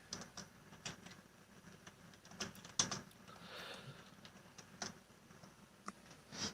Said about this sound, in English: I'm typing this guy in Discord